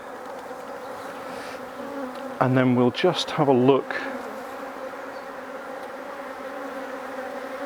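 Honey bees in a swarm colony hum steadily around an opened brood box, a dense, even buzz from start to end, with someone briefly speaking midway over it.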